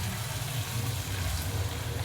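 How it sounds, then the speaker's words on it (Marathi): Hot water poured into a cooking pan of pea and potato bhaji, a steady continuous pouring rush held for about two seconds with no talk. "आता गरम पाणी ओतते."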